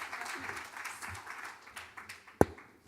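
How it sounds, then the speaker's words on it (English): An audience at an advertising seminar applauds, a moderate continuous patter of clapping that fades toward the end, punctuated by one sharp thump. "I think that deserves a huge round of applause."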